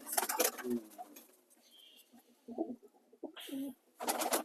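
Soft coos from large-bodied pigeons come in a few short bursts between louder rustling and handling noises at the start and end.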